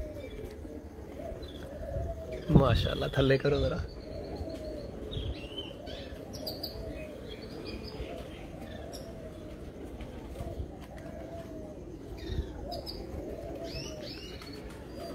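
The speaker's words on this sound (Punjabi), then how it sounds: "ਮੇਰਾ ਫੇਵਰਟ ਕਬੂਤਰ ਹੈਗਾ" Pigeons cooing and chirping on a Sharjah rooftop loft, soft repeated calls with a brief burst of wing flapping, while people talk nearby.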